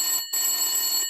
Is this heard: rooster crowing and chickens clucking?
no